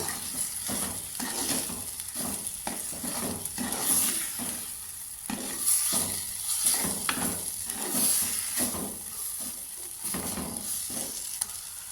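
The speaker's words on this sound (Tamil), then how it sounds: "இப்போ இதுக்குள்ள பாஸ்தா சாஸ் போட்டு நல்லாவே மிக்ஸ் பண்ணி விடுங்க." Pasta sauce stirred around a sizzling frying pan, with repeated scraping strokes in a steady rhythm over a constant hiss of frying, close and moderately loud with no talking.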